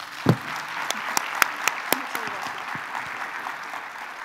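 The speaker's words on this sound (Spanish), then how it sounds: "Un aplauso para ella." Conference audience applause at a plenary session in Peru honoring the vice president, with scattered, uneven claps building into a light, steady patter.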